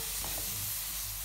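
Shallots frying in a pan while being stirred, a steady close hiss of sizzling oil with a couple of soft scraping touches of the utensil, no voices.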